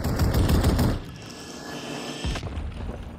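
A dense burst of automatic gunfire rattles in Call of Duty Modern Warfare 3 Zombies on PS5, breaks off into a quieter hiss, then a second, softer burst starts up.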